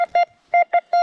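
A metal detector set for small coins and jewelry sounds its target tone: four short beeping bursts, the first a pair, spaced irregularly, loud and clean against silence.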